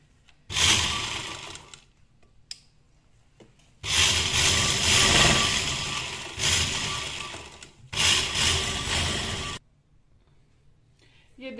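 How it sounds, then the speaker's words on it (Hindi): A sewing machine stitching along embroidery runs in several loud, steady whirring bursts separated by short pauses, close by, with a voice faintly heard between runs. "इसको अब सी लूंगी बिल्कुल एम्ब्रॉयडरी के साथ साथ"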